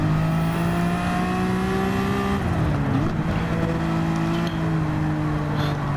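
A race car in a racing video game brakes and powers through a turn. Its steady high engine drone dips in pitch under braking, then climbs again as it accelerates out, with faint tire noise.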